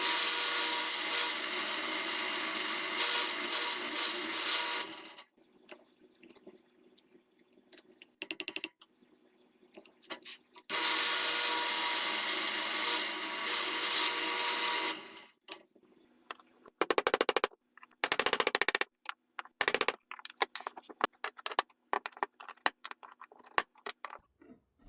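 Power drill boring out rivets on the grips of a Krag bayonet during restoration, loud whining bursts of several seconds each separated by quieter pauses and short intermittent drilling, close up with no talking.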